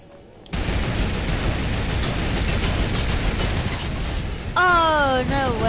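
Cannon fire and gunfire in a multiplayer battle video game, a dense continuous barrage of booms and shots lasting several seconds, with a rising whistling tone near the end.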